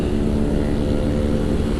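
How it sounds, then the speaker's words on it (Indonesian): Loud, steady motorcycle engine drone heard up close on the road from Bandung to Garut, a continuous low rumble with no pauses. "lumayan berisik ini motor"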